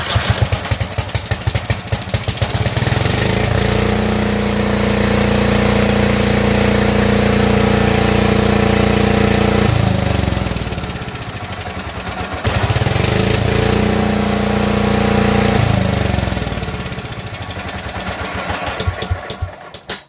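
A Kohler single-cylinder engine runs loud and close just after being choked, a rough chugging drone whose pitch and load rise and sag over twenty seconds, easing off twice before picking back up, with no talk over it.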